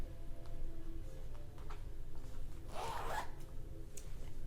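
A zipper runs on a soft knit quarter-zip crop top in one quick pull, close and clear, with light ticking handling noises around it and no talk.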